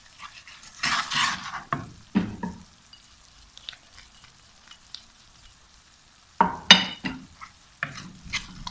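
Spices roasting in a pan for an aloo matar keema, heard as intermittent bursts of stirring and scraping with soft sizzle between quieter gaps.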